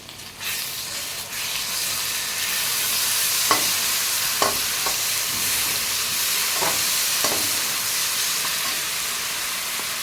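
Ginger garlic paste sizzles steadily in a hot pan while a spoon stirs it, with a few sharp scraping clicks over the continuous close frying hiss; no talking.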